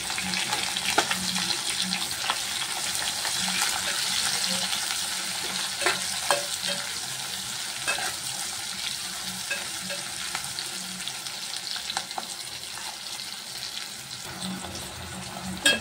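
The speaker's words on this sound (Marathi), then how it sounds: "आलं लसूण पेस्ट, हे सर्व व्यवस्थित परतवून घेऊया आपण।" Ginger garlic paste sautéed and stirred in a pan while making soyabean moong rice, a steady close sizzle with frequent small scrapes and clicks of a spoon throughout, no talking.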